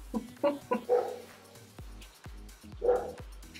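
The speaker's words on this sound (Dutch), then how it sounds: "Die hond sê blaf." A dog barks in a short burst of several yips near the start, then once more a few seconds later, fairly close and moderately loud.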